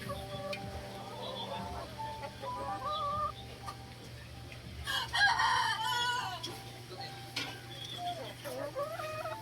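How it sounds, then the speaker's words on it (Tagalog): Male guinea fowl calling in a backyard poultry pen, a series of harsh rhythmic cries rising mid-clip over a constant low hum, with other fowl and faint talk in the background. "Ayan yung male na guinea fowl."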